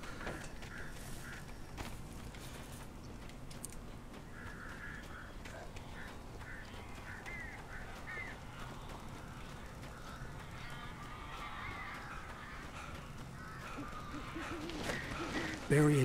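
Ducks and geese quack and honk repeatedly across a low, steady ambient bed in the Alan Wake video game, calls scattered and fairly faint, with a brief louder sound at the very end.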